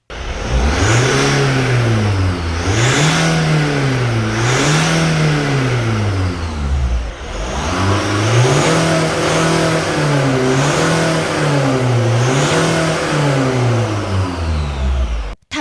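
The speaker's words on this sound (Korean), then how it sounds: "자, 배기음 비교 가겠습니다. 처음이 순정, 뒤에가 튜닝카예요." A Kia Carnival exhaust revs repeatedly in rising and falling bursts, a first stock set of revs followed after a short pause by a deeper, louder second set from a tuned exhaust.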